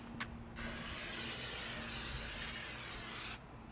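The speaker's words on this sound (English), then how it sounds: "I spray on all my smokers I season" A continuous aerosol spray of canola oil onto an Old Country Pecos smoker hisses for about three seconds, close and steady, starting and stopping abruptly.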